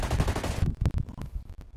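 Rapid automatic gunfire in Ghost Recon Breakpoint shoots at a drone: a loud burst of close shots, then several separated single cracks and short bursts trailing off.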